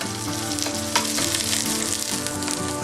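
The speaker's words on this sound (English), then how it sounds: "It's better to either pan fry them like this or to bake them in the oven." Salmon cakes sizzle steadily in a frying pan, a loud, continuous crackling hiss up close with small pops and no talk over it.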